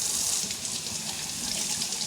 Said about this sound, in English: So I'm going to rinse this off with cold water.